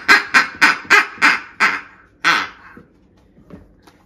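A duck quacks loudly and close in a rapid run of about six harsh, evenly spaced calls, then one longer quack after a short pause, followed by quieter faint sounds.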